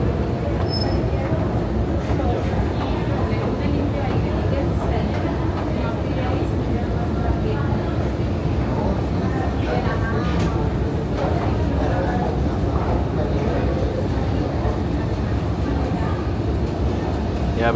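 New York City subway train running loud and close, a steady wash of wheel and car rumble filling the whole stretch, with voices talking faintly beneath it.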